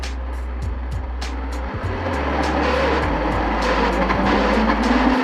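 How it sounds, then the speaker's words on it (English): Electric motors of a modified Power Wheels Dynacraft Dune Racer upgraded with a DeWalt 20V drill battery, whining loudly and steadily for several seconds with a rough, buzzing drone and occasional pitch shifts. "That's some bad sounding motors."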